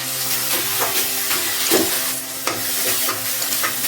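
Ginger, garlic, onions and tomatoes sauté in a pan for Tamil tiffin sambar, giving a steady close sizzle with repeated scraping stir strokes throughout, no voices.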